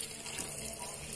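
Water runs steadily from a tap while corn is washed in a kitchen, a faint, even splashing flow that continues throughout, with a voice softly present.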